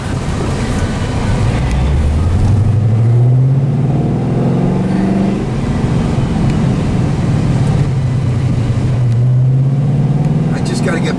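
A tuned car fitted with a new cold air intake revs its engine, and the pitch sweeps up twice in long rising pulls. Someone talks over the engine throughout.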